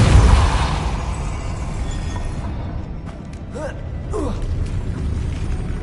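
A Depulso spell is cast in Hogwarts Legacy: a heavy mechanical burst that decays into a rumbling, creaking tail, followed by a couple of short whooshing effects.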